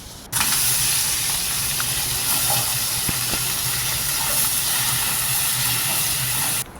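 Hilsa fish fries in hot oil, a loud, even, unbroken sizzling hiss that starts abruptly and holds steady, with a few faint clicks beneath it.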